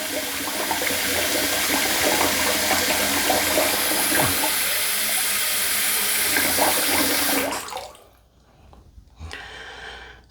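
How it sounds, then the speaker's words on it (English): Water runs steadily from a tap into a bathroom sink during a shave, a continuous close splashing rush that is shut off near the end, leaving a brief quiet gap before a few small drips and movements. "Fill this sink back up a little bit."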